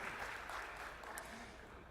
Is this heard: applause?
yes